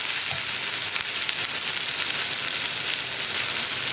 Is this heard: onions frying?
yes